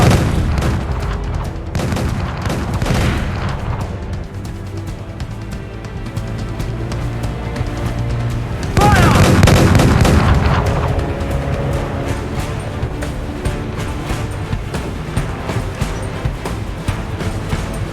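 Ship cannons fire in the Assassin's Creed Black Flag video game: heavy booming blasts with a loud burst midway, over a continuous rumble of sea and battle.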